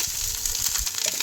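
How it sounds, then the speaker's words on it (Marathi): Spices sizzling and frying for a phodni tempering over a wood-fired chulha, a steady close crackle and hiss with soft stirring knocks, no voices. "आणि ते आता फोडणीची तयारी चालू आहे. चुलीवर फोडणी देतो आम्ही."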